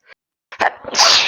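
One close, sharp human sneeze: a brief intake, then an explosive burst with a hissy tail, with no talk during it.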